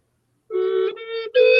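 A two-chamber flute sounds two notes at once, a short, bright, reedy double tone that starts abruptly, wavers briefly and rises at the end, close and alone.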